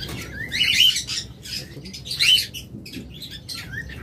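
Bred, close-ringed lovebirds in breeding condition give bursts of bright, high chirps in quick clusters, with two louder peaks amid steady low background noise.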